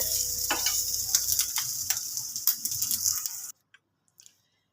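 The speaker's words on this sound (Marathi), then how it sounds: "अशा पद्धतीने आपण हे कटलेट शॅलो फ्राय करायला ठेवले आहेत." Leftover rice cutlets shallow fry in a pan with a close, steady sizzle and scattered light taps, then the sound cuts out abruptly into near silence with a few faint clicks.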